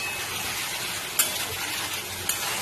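Chicken sizzling steadily in its own steam and released oil, a continuous close crackle broken by a couple of sharp clicks, with no voices.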